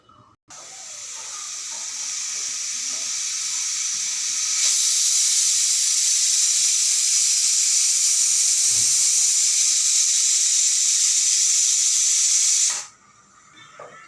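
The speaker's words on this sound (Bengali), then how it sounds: "আমাদের প্রেসার কুকার সিটি দিচ্ছে, বন্ধুরা, শুনলেন?" A pressure cooker cooking goat meat lets out a single long, loud steam whistle, a hissing jet that builds and then stops abruptly, with a quiet room before and after.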